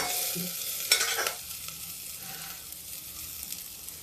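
Onions frying lightly in a pan for chana dal with pumpkin, a soft, steady sizzle with a couple of stirring scrapes near the start, fairly quiet and close, no talking.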